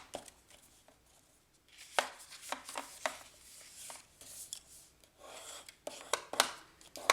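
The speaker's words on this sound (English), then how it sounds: "you're just going to fold it in a zigzag fashion" Card paper is creased and folded back and forth into a zigzag, giving a series of short crisp rustles and sharp creasing scrapes with brief pauses between, close and fairly quiet.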